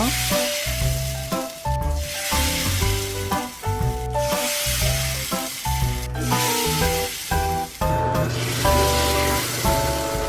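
Rice paper sheets frying one at a time in hot oil, a steady loud sizzle and crackle running the whole way, with soft music playing over it.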